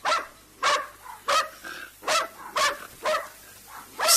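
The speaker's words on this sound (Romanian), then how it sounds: "Stau, se uită și apoi latră prelung." A dog barks repeatedly in a radio drama, about eight sharp, evenly spaced barks, close and loud with brief gaps between them and no talk.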